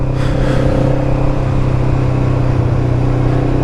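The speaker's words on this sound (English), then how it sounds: "I hope you can hear the bike a bit there, guys, because it sounds meaty" An old Honda CB500 motorcycle engine running loud and close, a continuous meaty, throbbing drone with steady low harmonics and a slight rise in revs.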